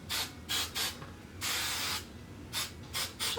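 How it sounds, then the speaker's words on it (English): Short close hisses of drugstore hairspray aimed at a hairbrush: a few quick puffs, one longer half-second burst, then more brief sprays, quiet with no speech. "Just a little hairspray. Not too much, you know."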